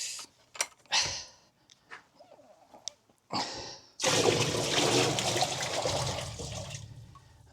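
A bucket of water poured into a wax melter, opening with a few clanks and splashes, then a loud steady gushing pour that runs for over three seconds before tapering off.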